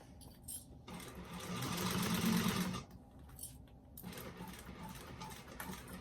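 A sewing machine stitches a tiny bag in a quiet room, with one steady whirring run of a couple of seconds, then softer mechanical ticks and handling as the needle is repositioned.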